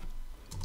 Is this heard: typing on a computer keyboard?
yes